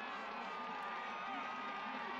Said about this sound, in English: The crowd roaring on